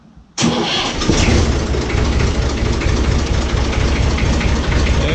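Massey Ferguson 35 tractor engine cranking and catching, then settling into a loud, steady near running rumble with no speech over it.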